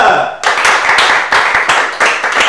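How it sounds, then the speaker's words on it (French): A studio audience at a bilingual word-contest final claps for the first finalist, a loud, close round of rhythmic clapping that starts abruptly after a brief voice and swells in pulses. "On va applaudir pour le premier finaliste"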